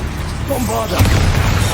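A Bombarda blasting spell explodes in the video game Hogwarts Legacy: a loud, brief booming blast that swells midway, with a voice speaking over it.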